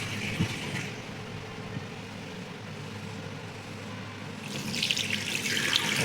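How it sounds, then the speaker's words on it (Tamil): Water runs from a newly fitted wash basin tap in a house. A low rushing flow grows noticeably louder and brighter toward the end, with no talking. "தண்ணியெல்லாம் ஃபுல்லாக தான் வருது"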